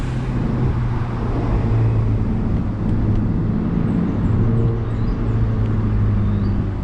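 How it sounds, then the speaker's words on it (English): Mini Cooper JCW Convertible driven with a manual gearbox, its engine and road noise forming a loud, steady drone throughout, with no distinct exhaust pops standing out and no voices. "Every time you push your foot down on the throttle, you let go, it does that popcorn."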